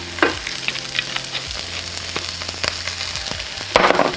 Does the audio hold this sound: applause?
no